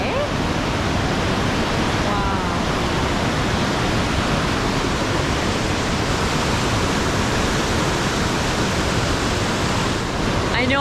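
Haslam Creek rushing beneath a suspension bridge in the Cowichan Valley near Nanaimo, British Columbia, a steady, dense roar of flowing water with no letup, heard from above on the span.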